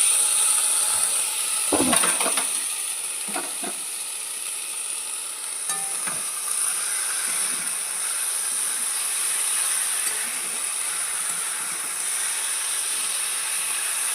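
Taro stolons (kochur loti) frying in hot oil that has separated from a fish curry, a steady loud sizzle and hiss with a few stirring clatters near the start.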